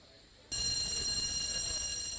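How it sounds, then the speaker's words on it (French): A loud, continuous electric alarm bell in a fire station suddenly starts ringing after a moment of quiet and keeps going without pause. "Lorsque retentit la sonnerie dans la caserne"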